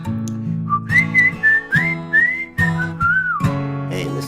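Someone whistles a clear, bright melody in short phrases over a backing of sustained musical chords.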